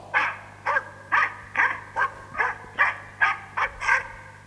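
A dog barking deep, fast and harsh, about ten rough barks in a steady quick rhythm at close range, with a low steady hum underneath.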